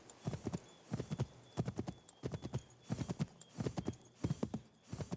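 Steady clip-clop of horse hooves in the video game Assassin's Creed III, in rhythmic bursts of quick steps, fairly close and clear, with no talking over them.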